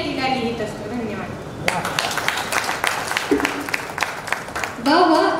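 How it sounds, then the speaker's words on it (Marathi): An audience at a children's poetry gathering breaks into a burst of clapping after a child recites a poem, lasting about three seconds. Speech comes just before and just after the clapping. "साक्षीसाठी जोरदार टाळ्या"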